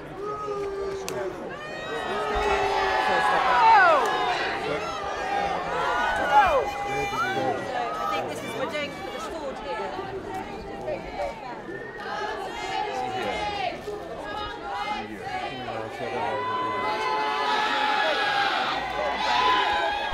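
A crowd at a royal engagement in York jeering a protester and chanting, a dense mix of many raised voices, shouts and whoops that swell and fade throughout.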